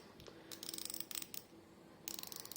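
The bezel of a Doxa Sub 300T dive watch with an orange dial ratchets as it is turned, giving quick bursts of small, crisp, close-up clicks separated by brief pauses.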